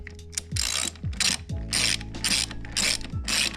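A hand ratchet clicks in quick repeated bursts as it tightens a car battery terminal on a Genesis Coupe during a grounding kit install, several close, crisp runs of pawl clicks separated by short pauses, with no talking.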